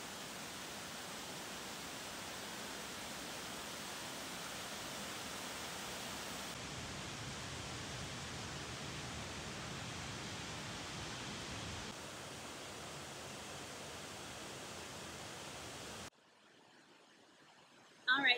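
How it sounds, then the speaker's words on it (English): A waterfall in Indiana roars as a loud, steady broadband rush of falling water that fills the scene, then drops away abruptly near the end as a brief burst of other noise cuts in. "So I don't know if you can hear me over the waterfall."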